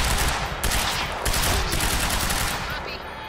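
Dense, continuous automatic gunfire in the video game Quantum Break, loud and close, with rapid overlapping shots that pulse slightly throughout.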